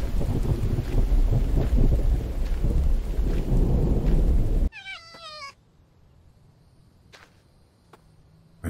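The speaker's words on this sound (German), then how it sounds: "Ja, schon wieder Regen." Steady rain pours with low rumbling thunder for several seconds in the video game The Infected, then stops abruptly, followed by a short meow-like cry and faint distant sounds.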